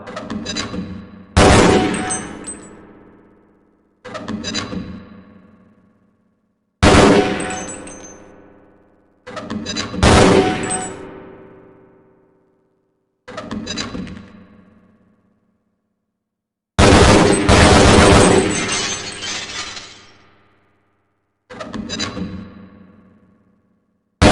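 Bursts of gunfire on a training target range in Half-Life Blue Shift come in separate loud volleys, each with a sharp attack and a ringing metallic decay, divided by stretches of near silence.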